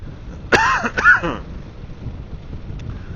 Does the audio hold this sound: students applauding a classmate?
no